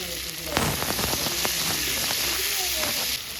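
Onion and tomato hitting hot oil with spices in a home kitchen, a steady broadband sizzle that swells as they go in, with some crackling pops throughout and a faint voice underneath.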